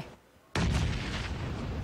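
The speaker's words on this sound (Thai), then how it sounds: "วาซิลีค่ะ โยนระเบิดออกไป" A grenade explosion in the video game PUBG during an esports match at the PUBG Nations Cup in Seoul bursts suddenly and loudly after a brief lull, then rumbles on with a long, dense roar.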